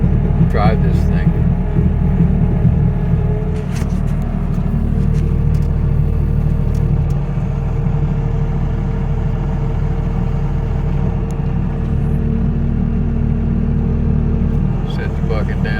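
A diesel machine with a front bucket rumbles steadily up close while driving and leveling dirt for keyline swales, its low engine drone continuous throughout.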